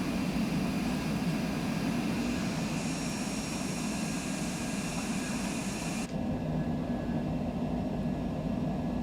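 Cessna Citation Longitude business jet in Microsoft Flight Simulator 2020 climbing after takeoff, a steady loud roaring jet engine drone with a constant whine, the brighter high hiss dropping away partway through as the gear retracts.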